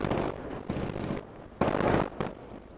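Distant gunfire in Cuisine Royale, a few muffled cracking pops arriving in uneven clusters, soft and far off.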